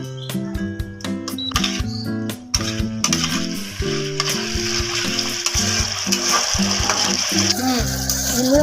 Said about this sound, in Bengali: লবণ দিয়ে কষিয়ে নেবো, কষিয়ে নেবো